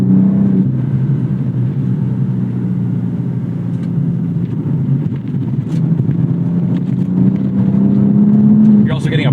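A BMW M240i with a turbocharged six-cylinder M engine accelerates, giving a steady, loud droning growl whose pitch climbs slowly toward the end, with a voice overlapping the engine.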